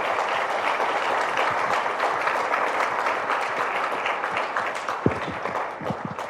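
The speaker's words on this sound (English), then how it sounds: "give a round of applause to the amazing panelists" A conference audience claps for panelists after a discussion on corporates and startups tackling climate change: a steady, full wash of applause holds throughout, with a few sharper individual claps standing out near the end.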